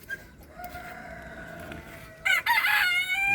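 A pure white rooster crows in its pen: one loud, drawn-out cock-a-doodle-doo rises near the end over a quiet background of farmyard murmur.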